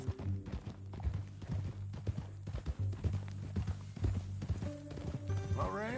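Horse hooves clip-clop steadily in Red Dead Redemption, a quick repeating rhythm close by over a low musical drone, with a brief rising sweep near the end.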